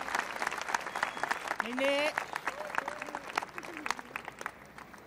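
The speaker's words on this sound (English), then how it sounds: "Sous vos applaudissements, mesdames, messieurs." Audience applause at the Heiva i Tahiti 2022 dance show, a crowd clapping steadily throughout while an announcer's amplified voice speaks over it.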